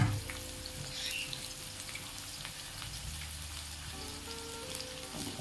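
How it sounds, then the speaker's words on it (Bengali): Potatoes dropped into hot oil fry with a steady, dense sizzle and crackle throughout, close and fairly quiet, with a few faint clinks near the end and no talking. "তেলে আলু পড়লো"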